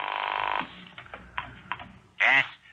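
A house telephone being dialed in a 1979 television program: a series of faint, quick clicks and taps spread across a couple of seconds, then a short, louder electronic tone.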